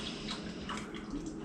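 Green chili simple syrup poured into a container for an ice cream maker, a close, steady liquid stream with slight gurgling drips throughout, no voices.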